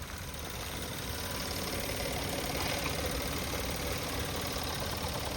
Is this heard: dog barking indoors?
no